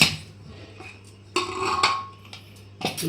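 Stainless pressure cooker lid being opened after boiling chickpeas, with a few sharp metallic clanks and scrapes of the lid against the pot, separated by quiet pauses.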